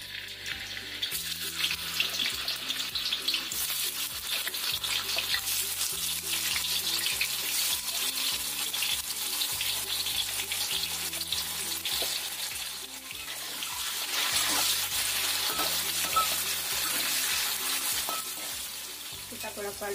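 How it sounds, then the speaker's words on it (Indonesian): Tofu fries in hot oil with a loud, continuous sizzle and crackle, joined by a steady repeating low thump throughout, with no talking. "Kita goreng setengah matang dahulu tahunya."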